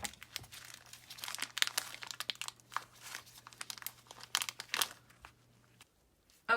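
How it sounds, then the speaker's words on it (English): Plastic bag crinkles and tears in quick, irregular bursts as a pig kidney is pulled out of it, up close and fairly quiet, with a faint steady hum underneath, ending in a brief silence. "you want to take the kidney out of the bag"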